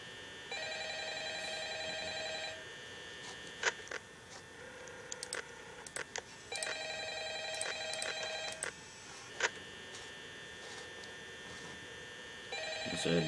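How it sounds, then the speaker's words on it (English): A telephone rings in the horror video game Five Nights at Freddy's, repeated bursts of electronic ringing separated by pauses, with scattered clicks and ticks between rings and no talking. "A damn phone."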